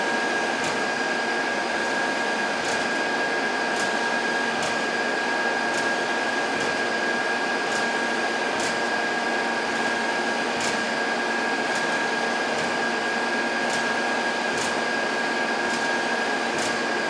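A Sunnen SV-3 vertical two-stage honing machine running with a faster spindle speed, a steady mechanical whir and hum carrying faint regular ticks about once a second throughout.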